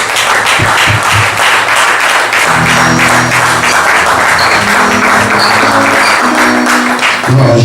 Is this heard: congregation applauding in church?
yes